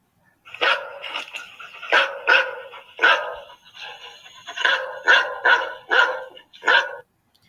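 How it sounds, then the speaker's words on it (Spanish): A series of sharp dog barks, roughly ten in all, loud and close, coming in bursts with short gaps, used as an example of barking from a smaller and a larger dog. "El ladrido de un perro más o menos suena así."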